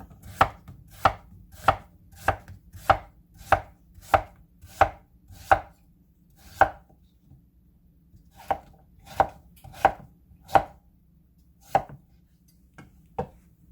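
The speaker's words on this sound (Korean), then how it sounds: "호박 쓸어줍니다" A knife chops zucchini on a cutting board in steady, crisp strokes, a quick regular run of about a dozen cuts followed by a few slower, spaced ones, close and clear with no talk.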